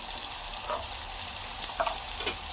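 Sliced onions fry with turmeric in a hot pan, a steady close sizzle with occasional stirring scrapes, no talking.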